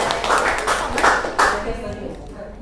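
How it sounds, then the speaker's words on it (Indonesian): An audience of teachers at an Indonesian training session on a positive-culture module gives a round of hand clapping. The applause is close and fairly loud, with uneven bursts that taper off toward the end. "Tepuk tangan lagi untuk kita semua."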